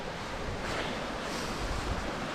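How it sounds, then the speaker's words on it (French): Small mountain stream with a good flow beside a trail on the way up Mont Aigoual, heard as a steady, close rushing of water with no talk. "Alors j'ai un petit cours d'eau là."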